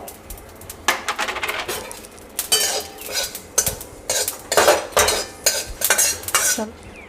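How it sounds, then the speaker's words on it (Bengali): Cumin seeds dry-roasting in a hot, oil-free wok, stirred with a utensil that scrapes and clinks against the metal in repeated close, fairly loud bursts, with a light rattle of seeds and no talking. "এর মধ্যে জিরে হালকা করে একটু শুকনো খোলায় টেলে নেবো"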